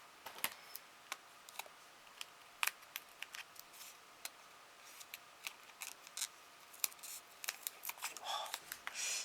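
Small scissors snip around a paper die-cut flower in quick, crisp, close cuts, a steady irregular series of clicks with a denser burst of cutting at the end.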